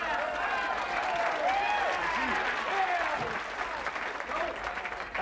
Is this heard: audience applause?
yes